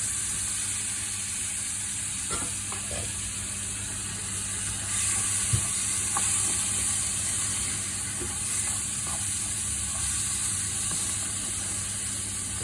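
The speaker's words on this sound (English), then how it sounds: "Now add the rice after it's been washed." Washed rice is tipped into a hot pan of toasted cumin seeds, giving a steady, close hiss and sizzle that runs the whole time, with a few faint clicks and stirring knocks.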